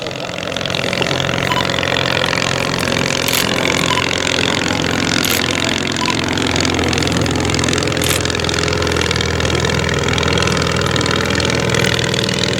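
The ABC engine of a vintage Wren aircraft runs continuously at a steady, loud idle, its rough mechanical drone unchanging over the whole stretch.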